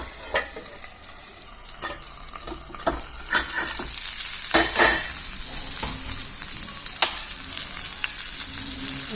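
Bitter gourd pieces frying in a pan, with a steady sizzle punctuated by several sharp clacks and scrapes as the slices are turned, heard up close with no talking.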